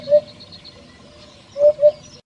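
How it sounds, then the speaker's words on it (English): Hoopoe bird calling in short, soft hooting notes, a single hoot early and then a quick pair of hoots near the end, fairly close and clear over a quiet background. "This bird's name is derived from its melodious hoop-hoop call."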